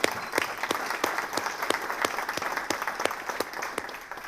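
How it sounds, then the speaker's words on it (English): An audience at a business seminar breaks into steady, dense applause, many hands clapping together at close range with evenly spaced louder claps, fading slightly toward the end, no talk over it. "let's give Keith Raymond a big round of applause, please"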